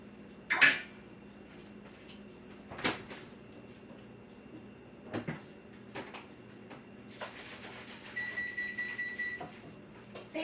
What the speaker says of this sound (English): Yay, my oven preheated.